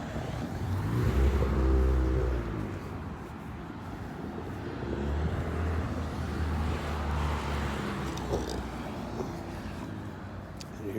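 A red truck turns on the road, its low engine rumble steady and close with a louder surge early on, amid continuous traffic noise.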